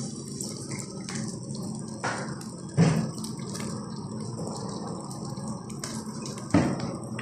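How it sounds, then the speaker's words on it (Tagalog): Water being poured into a pan of adobo, a steady liquid rush and trickle with a few clinks against the pan, close and continuous. "Lagyan natin siya ng konting tubig."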